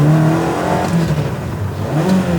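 A cheap, worn Ferrari 360 that keeps falling out of gear, its engine revving loudly and up close as it rises and dips through a gear shift.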